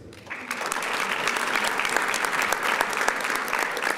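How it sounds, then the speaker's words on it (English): An audience at a Black History celebration in Tampa applauds middle school and ministry students, a steady, dense round of clapping from a sizable crowd that swells in the first half second and holds strong throughout. "Let's give all of these young people another round of applause."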